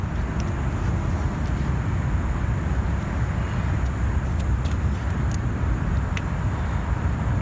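A Redcat X10B RC car on its stock battery pack runs at top speed outdoors, giving a steady, loud rush of broadband noise with a few sharp ticks over it and no voices.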